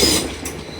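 A pair of Northern Trains class 195 diesel units arriving at Leeds station, a steady rumbling rolling noise with a brief squeal, close and moderately loud.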